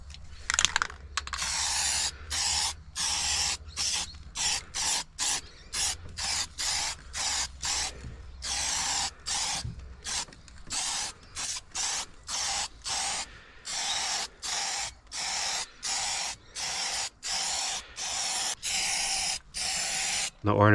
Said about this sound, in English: I'm using the Deluxe Metal Shield. It's an etch primer. It's also anti-corrosive.